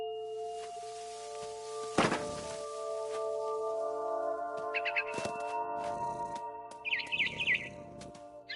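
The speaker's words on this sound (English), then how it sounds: "Then I heard chirping outside my window. It was a barn swallow going back to her nest." Barn swallow chirps in the game What Remains of Edith Finch, short high twittering bursts around the middle and near the end over a steady tonal musical backdrop, with a soft thump early on.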